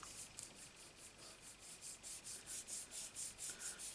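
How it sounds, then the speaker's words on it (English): A hand rubs paper pressed onto an inked surface for a Christmas tree star print, making faint, rhythmic swishing strokes about three per second, close and alone. "And just rub it."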